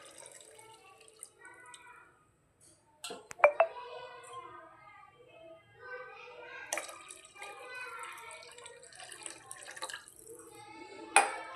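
Water is poured from a glass into a cooking pot for palak rice, giving splashy bursts of pouring mixed with faint kitchen sounds and voice-like tones at low level.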